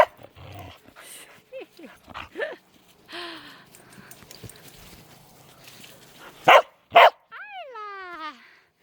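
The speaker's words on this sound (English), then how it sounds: "Quit barking at the camera." Several dogs bark and yip indoors in short, sharp bursts, with whimpers and a few loud barks near the end, while a person talks among them.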